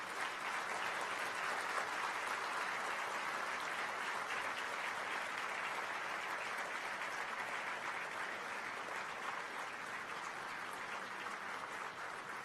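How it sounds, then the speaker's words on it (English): Graduates at a convocation ceremony in New Delhi give a long, steady round of applause, a dense roar of many hands clapping at once that holds evenly throughout with no talking over it. "acknowledge your parents and your teachers' contribution with a round of applause"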